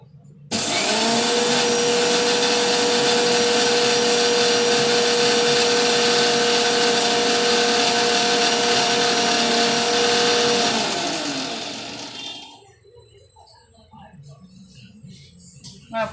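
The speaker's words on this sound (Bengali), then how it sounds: "পুরোটা মুড়ি গুঁড়ি করে নিলাম। আমার মিক্সির কাজটা হয়ে গেছে।" A kitchen mixer grinder whirs loudly and evenly as it grinds puffed rice to powder, running for about eleven seconds before winding down into quiet room noise.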